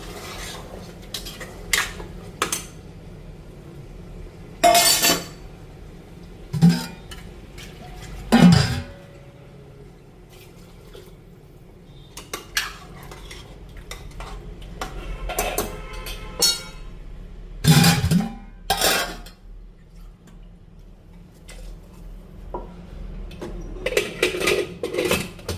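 Dishes and an oil pot used for tempering vegetables are scrubbed and rinsed by hand, with scattered clinks, scraping and clattering of utensils over a low steady background, some loud knocks standing out.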